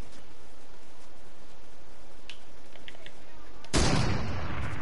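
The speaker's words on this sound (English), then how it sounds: "Ooh, I'm gonna shoot him." Gunfire in a shooting video game: faint scattered shots early on, then a loud burst of rapid fire near the end, with a player's voice speaking over the game audio.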